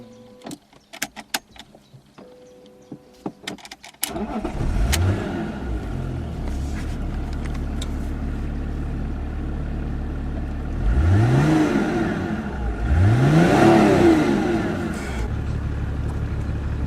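A BMW E36 325 tds Touring diesel engine cranks and catches after a few faint clicks, then settles into a steady idle, with two brief revs rising above the rumble.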